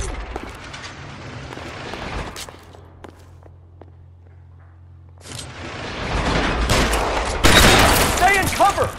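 Gunfire in an L.A. Noire shootout: sharp shots and bursts at the start, a quieter lull with sparse pops, then heavier, louder volleys and booms building toward the end.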